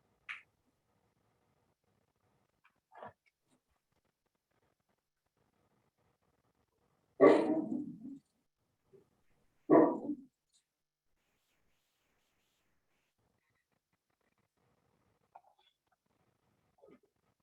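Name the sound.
dog barking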